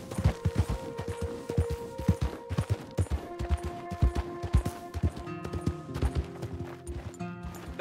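Horse hooves in Red Dead Redemption 2 beat out a quick, steady clip-clop at a gallop, close and continuous, over sustained music tones.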